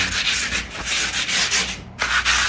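Sandpaper scrubs back and forth over a rough interior wall surface being prepared for insulation paint, in close, steady rhythmic strokes with one brief pause.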